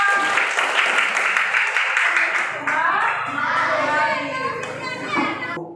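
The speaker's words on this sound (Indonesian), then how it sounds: "Oke, tepuk tangan semua." Children in a classroom break into applause mixed with excited chatter and shouting, a busy, close burst of clapping and young voices that fades slightly toward the end.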